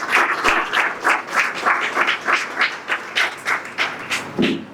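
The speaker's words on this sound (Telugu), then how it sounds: "సంతోషంగా ఉన్న వారందరూ చప్పట్లు కొట్టి దేవునికి స్తోత్రం చెప్తాం." A worship congregation claps in steady, evenly spaced unison, each burst of hand claps rising and falling in a regular beat at moderate loudness, with no talking.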